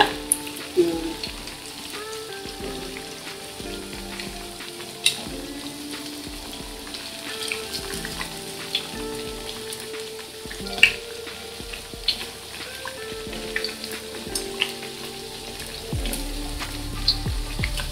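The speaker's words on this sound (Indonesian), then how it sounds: "Gorengnya sampai warnanya kecoklatan ya bunda." Steady sizzling of bananas frying in hot oil, with occasional soft clinks and light stirring, continuous and close throughout.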